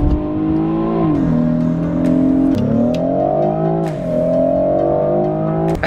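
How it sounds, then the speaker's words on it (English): A BMW F30 with an AWES flow carbon intake revs loudly nearby, its engine tone rising and falling in a few smooth sweeps with a throaty intake note, and no voices over it. "We put this unbelievable AWES flow carbon intake on. Sounds good too."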